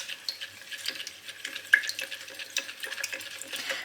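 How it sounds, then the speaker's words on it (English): Salt is stirred into water until it dissolves, making soft swishing and faint spoon taps against the container, close and quiet, with no voices. "give this a stir just until that salt dissolves."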